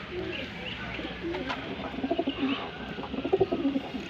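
Pigeons coo in a series of soft, rounded calls through the second half, close by and over a steady background murmur; a faint voice may be mixed in.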